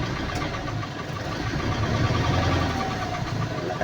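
An Isuzu 4JJ1 diesel engine idling with a misfire from a bad fuel injector, a loud, rough, continuous diesel rumble with an uneven knocking pulse, close up.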